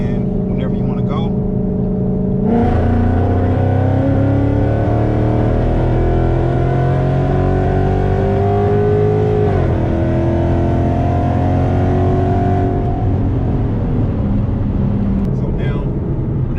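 Automatic car engine revving loudly and continuously while gears are held and shifted, pitch climbing steadily then dropping sharply at a shift and climbing again, close and dominant, with someone talking over it.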